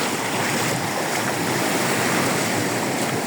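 Rising-tide waves wash around a boat during a ride at Marina Badauê, a steady, loud rush of surging water mixed with wind noise, with no break and no voices.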